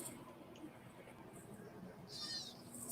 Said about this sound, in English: It just keeps meowing.